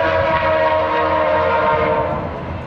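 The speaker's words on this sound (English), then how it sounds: "Let that train go by." A VIA Rail passenger train passes close by near a trailer park, its horn blaring loud and steady for the whole stretch over the rumble of the cars, easing slightly at the end.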